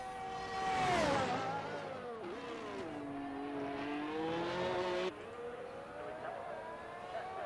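Formula 1 car on a flying lap around Monaco in a 2001-season racing video game, a loud high-revving engine whine rising and falling through gear changes, with an abrupt downshift midway.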